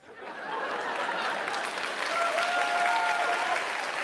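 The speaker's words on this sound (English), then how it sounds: "And the crowd goes wild." A theatre audience breaks into applause and cheering, building quickly into a steady, even roar of clapping heard from within the crowd, with a few faint whoops and laughter mixed in.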